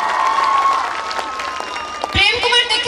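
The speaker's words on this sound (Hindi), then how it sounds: "जोरदार ताली ए जयश्री धळंकर डांस ग्रुप पई गोटे जोरदार ताली मारंती" Audience applause for a dance group at a college silver jubilee program, a steady wash of clapping with cheering voices rising near the end.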